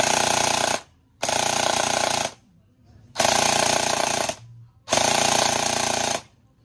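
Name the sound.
test firing an upgraded airsoft gun with a high-speed gear and motor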